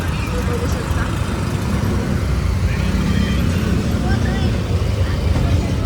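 Steady low engine rumble and road noise from inside an auto rickshaw moving through traffic on the way to Dadar, loud and continuous throughout with no clear breaks.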